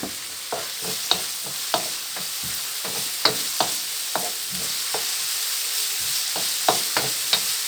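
Pork and hot dog being stir-fried in a pan, with repeated scraping and stirring strokes of a utensil over a steady close sizzle of hot oil, no talking.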